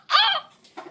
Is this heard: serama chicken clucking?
yes